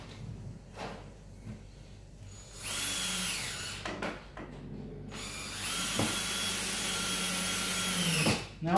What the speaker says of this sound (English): Now I just use the drill.